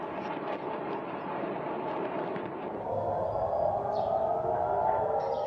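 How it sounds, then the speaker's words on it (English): Air-raid sirens wail across Jerusalem during missile strikes, a steady sustained drone that swells slightly louder midway, heard from a distance over the open city with no voices. "Sirens were heard wailing across Jerusalem early on Thursday."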